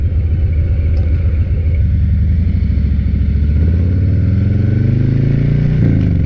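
A 2021 Harley Davidson Heritage Classic motorcycle engine rumbles loudly and close up, its deep throbbing note rising in pitch as it revs and pulls away.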